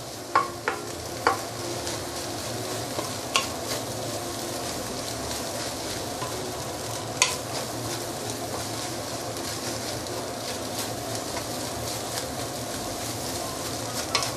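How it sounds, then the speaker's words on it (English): Egg fried rice stir-fried in a pan makes a steady, moderately loud sizzle, punctuated by several sharp clanks and scrapes of the spatula at irregular intervals. "you can feel it's actually very easy to stir fry"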